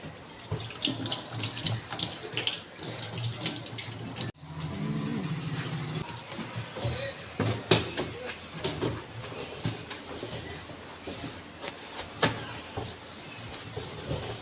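Water runs continuously from a tap while clothes are washed at home, a steady splashing wash with intermittent clatters and bumps throughout, fairly close.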